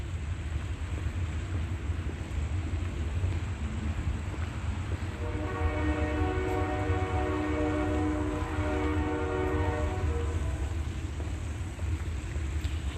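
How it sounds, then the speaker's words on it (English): An Amtrak passenger train runs westbound along the tracks with a steady, loud rumble, and its horn sounds as a sustained blast through the middle of the passage, with no talking. "Right now, the train is headed in the west direction on the Amtrak trail tracks."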